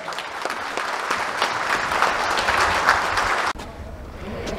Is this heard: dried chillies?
no